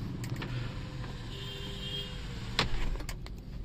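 The sunroof motor of a 2018 Mahindra XUV500 W10 automatic whirs briefly and faintly inside the cabin, followed by a soft clunk as it stops and some light clicks.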